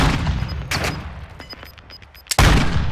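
Gunshots ring out in a video game gunfight in an alley: a loud crack near the start, a few lighter pops in the middle, then a heavy close shot near the end, with no talking.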